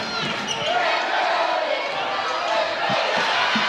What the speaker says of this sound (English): Crowd back into it here at Leon Smith's Court.